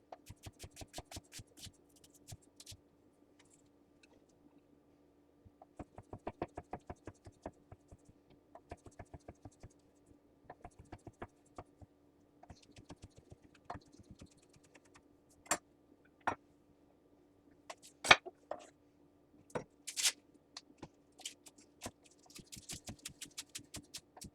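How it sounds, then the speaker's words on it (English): A knife chops vegetables on a cutting board for an omelet. Sharp, separate taps come in bursts and irregular runs, close by and quiet, over a faint steady hum, with no talk. "But first, let's chop them up."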